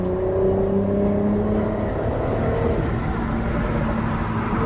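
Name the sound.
Mercedes-Benz SL450 engine sound while accelerating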